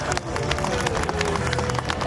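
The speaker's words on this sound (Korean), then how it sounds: "박수 한번 부탁드립니다" Audience at a Children's Day robot demonstration clapping, a dense continuous burst of applause with crowd murmur throughout.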